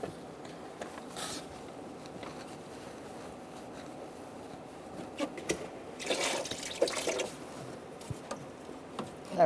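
Coolant draining from the lower radiator hose of a 2004-2009 Mazda 3 into a bucket below, a faint trickling splash that grows louder and more gurgling toward the end, with occasional clinks.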